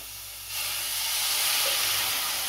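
Chicken masala sizzles hard in a hot pan after a splash of water, a loud steady steam hiss that flares up after a quiet start and holds for the rest of the clip, with no talking.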